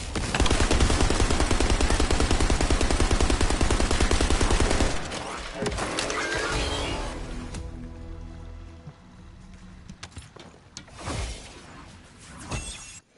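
Sustained rapid gunfire in The First Descendant, a dense roaring stream of shots for several seconds that cuts off, followed by scattered impacts, crackles and a few sharp final bursts.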